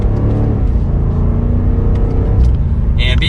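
A 2022 BMW M8 Competition Gran Coupe in M mode and Sport Plus pulls hard, its engine a loud, steady rumbling drone from the cabin throughout, with a brief higher whine near the end.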